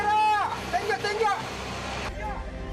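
A line hauler motor hauls a crab net aboard a fishing boat, a steady mechanical drone running throughout, with shouting voices over it in the first two seconds and a lower, rougher motor tone after.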